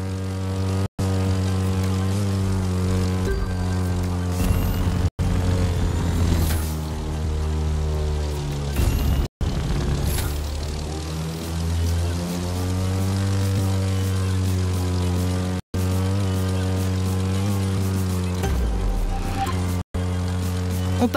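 A propeller airplane flies steadily in The Crew 2 racing game, its engine a loud, constant droning hum with layered tones that rise slightly in pitch partway through, heard alone and close for the whole stretch.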